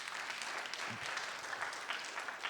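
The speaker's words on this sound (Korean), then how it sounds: "오늘 우리 카라 찬양팀에서 박수 한번 쳐주시기 바랍니다" A congregation claps for the Kara praise team during a Sunday afternoon worship service at Inkwang Church, a fairly soft, steady patter of many hands sustained throughout with no voices.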